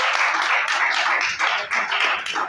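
A church congregation claps hands together in fast, steady rhythm, close and fairly loud, with no voices over it.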